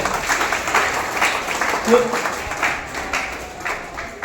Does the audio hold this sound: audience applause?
yes